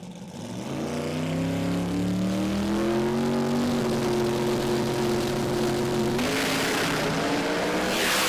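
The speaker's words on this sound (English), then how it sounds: "Oh, wheelie there for Smithy" A drag racing car with massive rear tyres launches down the track at a jamboree meet, its engine roaring loud and continuous with the pitch climbing steadily through gears as it pulls away, no voices over it.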